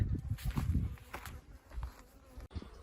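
Bees from black hives buzzing close by in a steady, uneven drone that swells and fades, with no voices.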